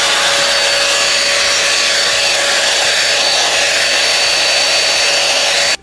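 Temu Dyson Airwrap dupe hair styler blowing a loud, constant rushing whoosh with a faint motor whine, close up and alone until it cuts off at the end.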